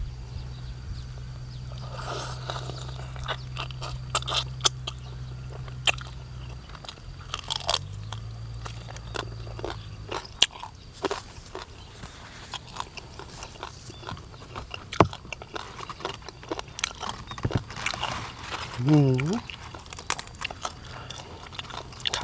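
Crunching bites into the crispy skin of a whole roast suckling pig, irregular close crackles and chewing sounds with a low background hum at the start and a brief squeak near the end.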